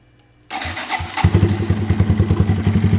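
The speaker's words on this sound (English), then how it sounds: "so let's go ahead and fire everything up." A 2022 Honda Monkey motorcycle fitted with a new clutch plate and stiffer clutch springs is started after a short quiet stretch, then settles into a loud, close, steady idle with a rapid, even engine throb.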